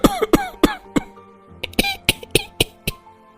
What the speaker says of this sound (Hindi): ये क्या, सभी को साथ में खांसी आने लगी?